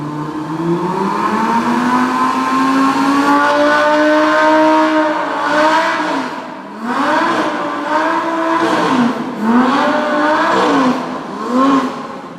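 A sports car engine revs repeatedly, its smooth tone climbing and falling in several rising sweeps, loud and close with no talking.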